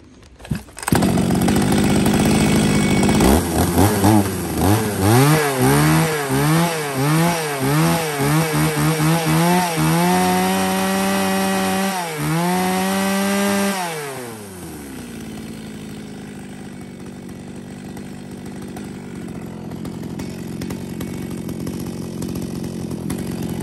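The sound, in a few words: Echo V3500 Japanese chainsaw engine running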